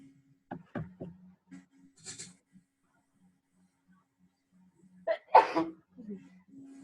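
A sharp sneeze bursts out near the end of a quiet stretch, preceded by a few small clicks and thumps, with a low steady hum underneath.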